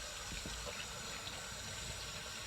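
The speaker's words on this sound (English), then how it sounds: "Now we're just going to give it a nice rinse under some lukewarm water." Lukewarm water runs over a dirty dug-up antique bottle being rinsed under a tap, giving a quiet, continuous wash of hiss and gurgle with no breaks.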